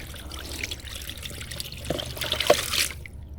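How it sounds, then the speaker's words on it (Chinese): Water slowly trickling out of a small one-inch stainless steel ram pump, a soft steady dribble and splash close by, with a brief metallic clink and a louder gush near the end. "你打开过后，水只是这样子慢慢的流出来"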